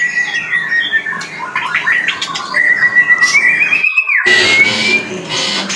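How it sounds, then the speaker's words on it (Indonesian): An oriental magpie-robin (murai batu) sings loud, close whistled phrases, rising and falling with squawky notes, breaking off briefly before a bright burst resumes. "Ini kita pantau murai batu yang pertama ya teman-teman."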